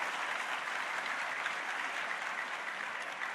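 Steady, dense applause from a large audience at the opening ceremony of a national Quran recitation and memorisation event, an even wash of clapping with no break throughout.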